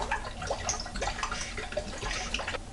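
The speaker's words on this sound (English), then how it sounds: "So again, we pour that in carefully." Film developing chemical, here bleach, pours carefully into a developing tank at home. It makes a quiet, continuous trickling and splashing with small gurgles, close by and alone.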